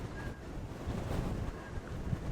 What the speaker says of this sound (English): Even the wind's out to get me now,